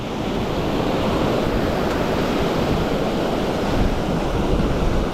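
Ocean surf washes continuously up a beach, a steady loud roar of breaking waves mixed with wind buffeting the microphone, with no voices.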